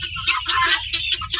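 Titir chickens in a poultry shed chirp and cluck in quick, overlapping calls, a busy, fairly close flock sounding steadily throughout.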